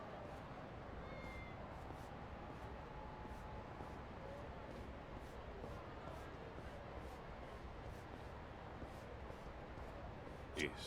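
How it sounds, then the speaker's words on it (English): Cats meow faintly in the video game Lost Judgment, brief high calls scattered over a steady low ambient background. "I hear the cats, so let's see."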